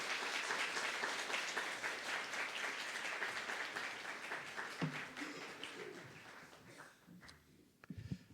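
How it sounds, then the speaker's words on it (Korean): A church congregation applauds to welcome a guest pastor at a Korean worship service, a dense steady wash of clapping that carries through most of the stretch before thinning toward the end. "여러분 박수로 한번 맞아주시기를 바랍니다."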